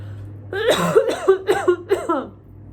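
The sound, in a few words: cough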